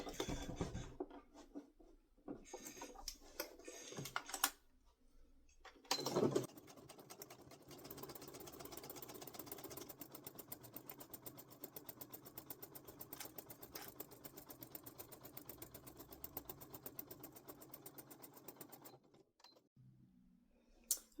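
A sewing machine runs in steady, rapid stitching bursts while top-stitching a bucket bag at a quarter-inch seam, fairly quiet and close, with brief pauses between runs and no talk.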